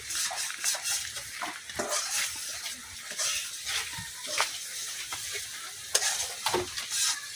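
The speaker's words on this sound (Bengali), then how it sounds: "এখন আমি কড়াইয়ে তেল দিয়ে চুলার মধ্যে বয় দিতেছি।" Oil heats in a wok on a stove, producing a continuous close hiss and crackle with frequent stirring and scraping clicks, fairly loud throughout and free of speech.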